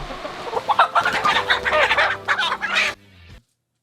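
Chickens cluck and murmur on their perch inside a coop in the early morning, a dense overlapping chorus of close, busy fowl calls that runs for about three seconds before cutting off to near silence.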